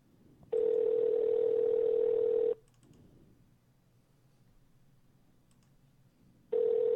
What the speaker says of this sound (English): I hear your phone ringing.